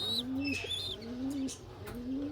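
Pigeons coo in repeated low, rolling phrases, three distinct bouts, with faint bird chirps and twittering in the background.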